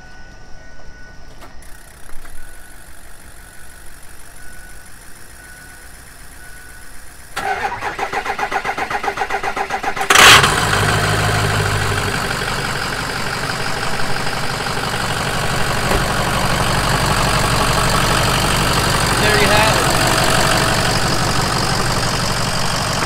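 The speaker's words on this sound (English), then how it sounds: "Gauge cluster's done, truck runs." Clicking and whirring as a starter cranks, then a 2006 Ford F550 truck engine roars to life and settles into a loud, steady rumbling idle.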